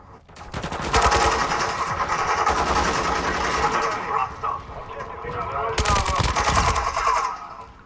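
Rapid automatic gunfire from the video game Modern Warfare 2, loud dense bursts of shots that pause briefly and then resume, with game engine noise underneath.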